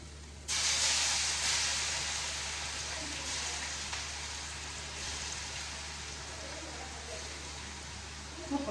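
Curry leaves and prawns dropped into hot oil in a pan, an abrupt loud sizzle that keeps hissing steadily and slowly fades, with faint crackles and no talk.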